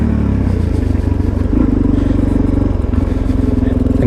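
A Suzuki DRZ supermoto on street tires putters along a muddy trail, its single-cylinder engine loud and close with a rapid, pulsing exhaust beat and rising revs.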